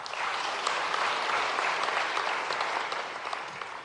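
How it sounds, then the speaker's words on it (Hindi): A large audience in a Bhopal auditorium claps steadily at a civil services felicitation, a soft, even, distant wash of applause with no voices. "ये तालियां और देर तक बज सकती हैं"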